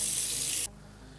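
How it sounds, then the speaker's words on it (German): Hand-warm tap water runs steadily into a sink being filled for washing wool yarn, a loud, even rush that drops to a softer flow partway through. "Jetzt mit handwarmem Wasser volllaufen lassen."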